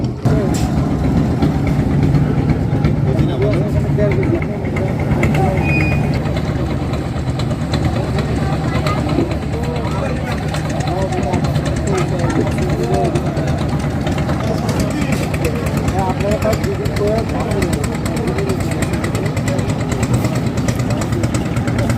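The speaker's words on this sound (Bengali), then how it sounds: "রৌমারি ফেরিঘাট থেকে একটি নৌকা বোঝাই করে ছেড়ে যাচ্ছে" A loaded engine boat pulls away from Roumari ferry ghat on the Jamuna river, its motor droning steadily and loudly throughout, mixed with voices and outdoor noise.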